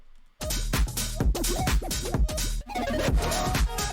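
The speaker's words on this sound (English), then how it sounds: "That little fluty synth sound." A bright, breathy synth melody plays over a thumping beat, its notes gliding up and down in short phrases within a dense, loud music mix.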